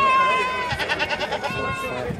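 Goats bleat at a busy livestock market in Tabira, Pernambuco, with a loud, wavering cry close to the mic and other animals and crowd noise behind it.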